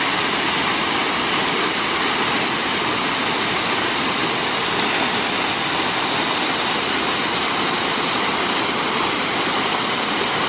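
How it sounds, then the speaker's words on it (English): A roadside waterfall in Juneau, Alaska pours with a loud, steady, broadband rush that stays constant throughout, close by and with no voices over it. "Found a little waterfall here next to the road."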